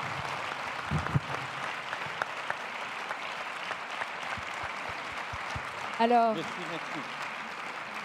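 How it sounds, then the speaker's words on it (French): Audience applause at a French-language event, a dense steady wash of clapping from a crowd in a hall, with a brief spoken word near the end. "On peut encore une fois les applaudir bien"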